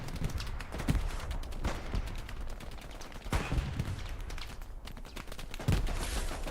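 Rapid bursts of Thompson submachine gun fire in the World War II shooter Hell Let Loose, overlapping with distant shots and battle noise in repeated sharp volleys, with no talk.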